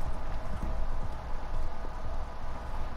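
Horse hooves galloping in the video game Red Dead Redemption, a rapid, loud, continuous drumming of clip-clop beats close up with no pause.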